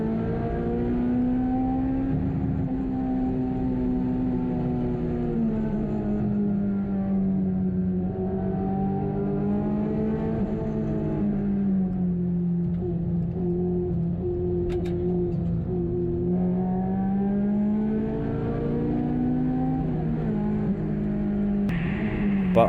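A Honda S2000 on a race track holds a steady, droning engine note from inside the car, rising and falling gently with speed, with a continuous whir and no voices.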